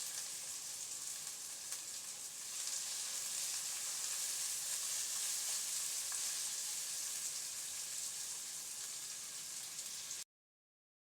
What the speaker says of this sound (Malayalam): അതിന് വേണ്ടിയിട്ട് കുറച്ച് സവോള നമുക്ക് ഇതേപോലെ വറുത്തെടുക്കാം കേട്ടോ.